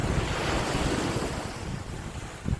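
Steady roar of surf washing onto Jomtien Beach, Thailand, with gusty wind buffeting the microphone throughout.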